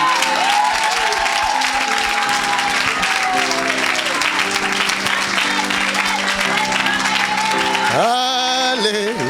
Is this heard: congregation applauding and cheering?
yes